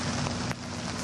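Steady rain pours down at the rubble-strewn disaster site in the aftermath of the September 11 attacks, a dense, continuous hiss of drops striking surfaces with no voices.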